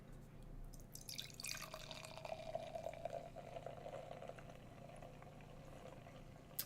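Beer poured slowly from a can into a glass, a soft rising gurgle that settles into a steady fizzing trickle with faint bubbling and drips, quiet and close with no talking.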